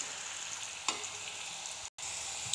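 Vegetables sizzle steadily in a hot pan while being stirred, a constant crackling fry with a soft clunk of the utensil partway through and a brief dropout near the end.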